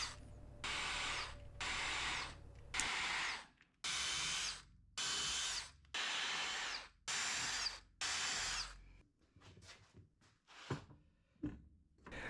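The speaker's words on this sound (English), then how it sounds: "I use the existing holes in the spar cap to drill the holes through the aluminum shear web" A power drill drilling holes through an aluminum shear web into wood whines in repeated short bursts, about seven pulses with brief pauses between, then quieter clicks and handling noises.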